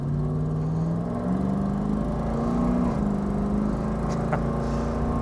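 A 1989 Pontiac Trans Am GTA accelerates steadily with a loud, close engine drone whose pitch climbs, dips at each firm gear shift, then climbs again.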